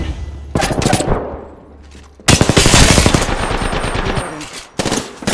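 Loud bursts of rapid automatic gunfire come from the video game Apex Legends. A short volley is followed by a pause, then a longer sustained stream of close shots, and a final brief burst at the end.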